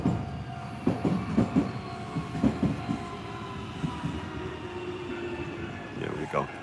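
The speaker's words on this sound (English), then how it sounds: "You can see the train go by." The first train of the morning rolls past, a rumbling rail passage with rhythmic clacking bursts as the cars go by, fairly close and loud, with a brief higher squeal near the end.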